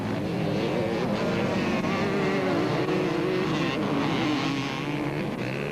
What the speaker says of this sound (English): But the heavier 250 Honda of Van der Merwe wasn't as nifty through the tight corners.